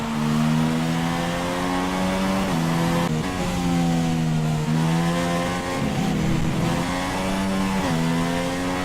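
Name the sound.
Formula 1 race car engines in F1 2016 video game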